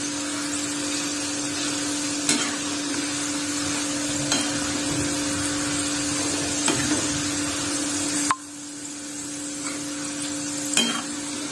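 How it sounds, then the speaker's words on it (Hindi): Chana dal namkeen frying in hot oil, a steady dense sizzle running throughout with faint stirring clicks, and a brief drop in level near the end before the bubbling continues. "हमें इसे जब तक तलना है जब तक ये क्रिस्पी करारी ना हो जाए।"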